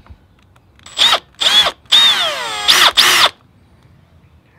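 A power drill whines in five short bursts while drilling a 3.3mm pilot hole for an M4 thread, the longest burst sagging in pitch as the bit bites, with quiet pauses between.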